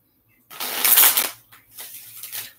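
A close, crisp riffle of tarot cards being shuffled, one long burst followed by two shorter ones.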